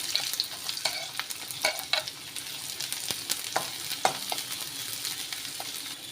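Sliced onions fry and are stirred in a pan for an egg side dish, a constant close sizzle punctuated by frequent quick scrapes and taps of a spoon against the metal.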